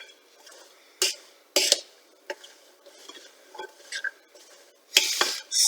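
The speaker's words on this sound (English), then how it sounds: "I'm going to give this a mix." A spoon stirs Maltese fresh pea salad in a bowl, scraping and clinking in scattered irregular strokes, close and fairly quiet with a few sharper knocks against the dish.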